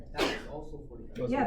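A single sharp sneeze bursts out during an algebra class, loud and close, followed by a teacher and students talking.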